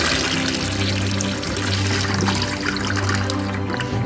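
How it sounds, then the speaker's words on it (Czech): A Sanela radar urinal flusher runs its factory-set short three-second flush, a steady rushing and trickling of water heard up close and continuous throughout, with no voices. "Vidíte krátké spláchnutí nastavené z výroby na dobu 3 sekund."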